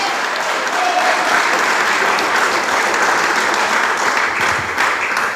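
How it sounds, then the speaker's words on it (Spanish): Congregation clapping during a church sermon, a loud, dense and continuous wash of hands from the crowd, sustained evenly with no talking on top. "dele palmas."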